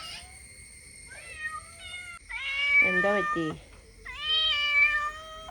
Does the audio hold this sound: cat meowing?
yes